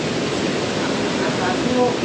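A pair of twin waterfalls in Laos, a dense continuous roar of rushing water, loud and close throughout.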